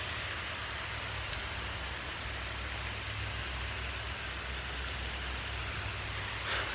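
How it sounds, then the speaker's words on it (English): Steady rain falling, a continuous hiss of drops on surfaces with no voices, even in level throughout. "It's raining at my house."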